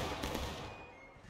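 A musket volley roars at a battle reenactment, a dense, loud burst of overlapping shots that rolls out as a sustained rumble and slowly fades over about a second.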